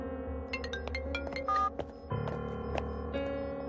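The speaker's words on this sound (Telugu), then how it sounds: "ఏమైందయ్యా? రింగు వెళ్తోందయ్యా." A telephone call being placed in a Telugu film scene, heard as a run of short electronic dialing and ringing tones, one after another, close and clear with no talking.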